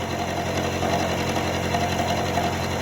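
An end mill on an Anilam 3000 CNC mill cuts metal with a steady, close, droning whine and a faint rhythmic chatter running throughout, with no pauses.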